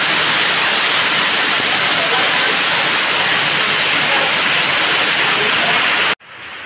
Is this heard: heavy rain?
yes